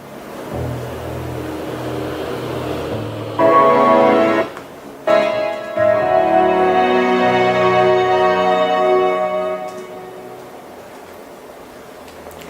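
Two low orchestral lines from a sampled upright bass play together, entering partway in as sustained, layered notes over a quieter low rumble, then fading toward the end.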